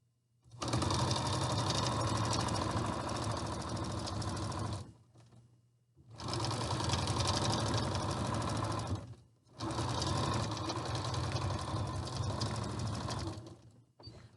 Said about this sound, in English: turn it under another 1/4 inch and just sew right down there again